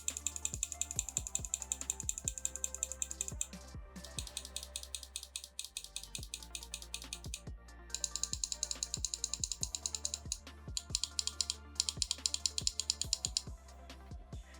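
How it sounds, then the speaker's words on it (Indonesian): A VXE R1 gaming mouse clicks in fast, crisp, close-up bursts with short pauses between runs, small mechanical ticks repeating steadily with no talk over them. "Dan sekalian kita bakal denger aja suara klikan dari VXE R1"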